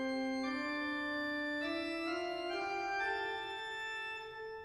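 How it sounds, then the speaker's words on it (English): Pipe organ plays a fugal theme from a Praetorius preambulum: sustained, rich harmonic tones with a single melodic line stepping through a few held notes, clear and steady with no talking. "There is a fugal theme, which you will hear after the opening lyrical section"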